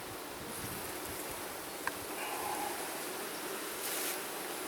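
Honey bees on a hive frame give off a faint, steady, airy buzz with no voices, holding at an even level and ending with a brief sharper click.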